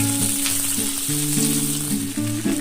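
Eggplant, potato and kulmuti fry in hot oil for a Bengali pui metuli dish, a close sizzle under a few overlapping musical tones, brief and steady.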